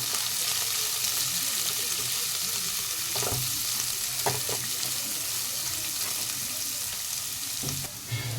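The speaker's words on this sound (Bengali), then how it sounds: "এবার দিয়ে দেবো আমি কেটে রাখা গাজর আর বিনস, দুটো একসাথে দিয়ে দেব। ভালো করে ভেজে নেব।" Chopped carrots and beans frying together in a pan, a continuous soft sizzle with occasional spatula scrapes and clicks, quiet and close.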